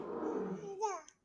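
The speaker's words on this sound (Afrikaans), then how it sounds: "'n Leeu brul." A lion gives a single short, fairly faint roar that fades quickly in a children's lesson on wild animal sounds.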